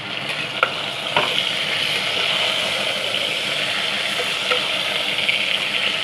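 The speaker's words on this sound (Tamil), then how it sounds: "சும்மா ஒரு வதக்கினா போதும்." Kara kuzhambu paste (a mango-based version) sautés in a pan with a steady, loud sizzling hiss, with a few light utensil knocks near the start.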